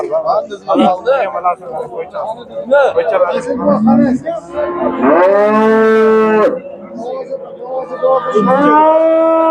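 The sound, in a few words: cow mooing at a livestock market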